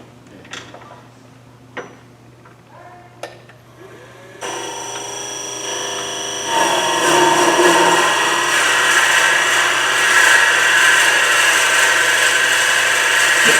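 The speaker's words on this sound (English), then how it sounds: "You can see the drill bit's wobbling a little bit." A drill bit bores into wood mounted on a lathe while a pepper mill is being turned. After a few soft ticks, a sustained grinding whir starts and grows louder, then keeps on as a steady, close-up cutting noise.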